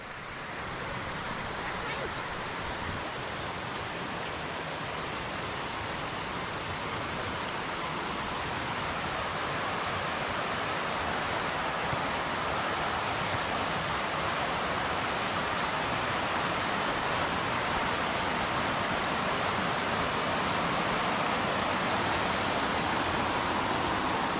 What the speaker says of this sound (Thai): น้ำตกเนี่ยสูงที่สุดในเรมันครับ